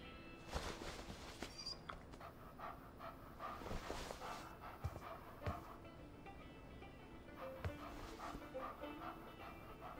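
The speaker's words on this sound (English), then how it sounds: "just another stray mutt" A stray dog in the video game Life is Strange 2 pants in quick rhythmic breaths against a busy ambient game background with faint rumbling, the panting steady and moderately close throughout.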